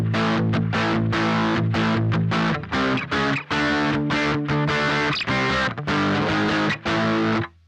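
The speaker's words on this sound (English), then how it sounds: "So this is going to be the clean channel, then the distorted." A heavily distorted electric guitar through a diode-modded Boss DS-1 pedal plays loud, gritty chords in choppy bursts with short pauses between them, and no one speaks.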